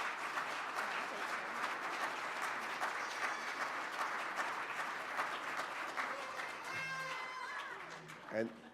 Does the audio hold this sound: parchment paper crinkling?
no